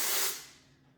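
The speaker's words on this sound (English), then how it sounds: "So just spraying each strand thoroughly" An aerosol can of Fundraiser texture spray hisses onto strands of a curly bob as hair is styled: one close, loud, steady spray that tapers off after about half a second.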